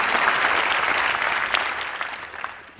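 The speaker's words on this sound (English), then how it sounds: "Yes, clap for that." An audience at a public health talk bursts into loud, dense applause close by, sustained for a few seconds before tapering slightly at the end, with no voices over it.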